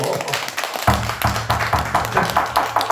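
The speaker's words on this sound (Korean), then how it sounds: "박수 한번 쳐주세요." A gathering at a Buddhist temple in Gimhae breaks into applause after near-silence, the sharp, fairly close hand claps building into a rhythmic patter.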